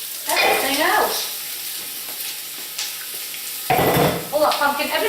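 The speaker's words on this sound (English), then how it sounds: "So the onions have been sweating down for a minute now." Onions sizzling in a pan as chopped pumpkin and other ingredients are tipped in, a steady close frying hiss with clatter and stirring, the sizzle swelling near the end.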